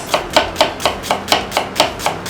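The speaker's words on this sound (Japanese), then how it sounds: "では玉ねぎはみじん切りにしていきます。" A knife finely minces onion on a cutting board for curried rice pilaf, with nine or so crisp, evenly spaced chops in a quick, steady rhythm, close and clear.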